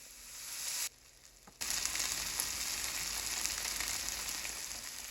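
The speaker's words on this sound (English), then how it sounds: "we're gonna drizzle some oil because we're gonna start saute the chicken" Chicken pieces sautéing in oil in a pan, a continuous hissing sizzle that briefly drops away for a moment before returning at full strength, with no talking.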